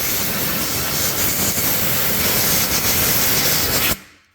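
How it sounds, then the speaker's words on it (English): Spray from a hose washing off a leaking brake line on a short-bed 4x4 Bullnose Ford truck, a loud steady broadband hiss lasting about four seconds, then cutting off abruptly. "I'm going to go ahead and hose it off."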